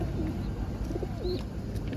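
Pigeons coo softly in the distance at an outdoor animal market over a steady background hum, with a faint bird call rising briefly partway through.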